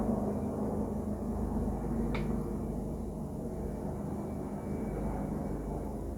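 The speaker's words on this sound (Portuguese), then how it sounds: "Passando um helicóptero aqui," A helicopter passes overhead outdoors, a steady broad rumbling drone that holds evenly throughout, fairly loud and alone with no talk.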